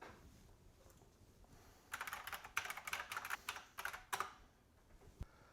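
Brisk typing on a computer keyboard entering a website address, a quick cluster of close, light key clicks after a quiet start, alone with no voices.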